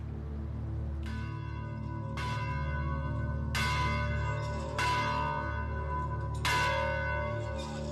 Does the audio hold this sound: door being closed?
no